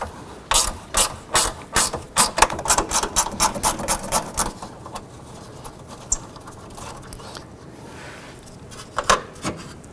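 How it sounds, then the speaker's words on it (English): Ratchet wrench loosening two 10 mm bolts during radiator replacement on a 2007–2011 Honda Civic, a close, rapid clicking in quick bursts for the first half, then sparse clicks and a final short burst, with no talking. "I'm going to go ahead and remove these two 10 millimeter bolts."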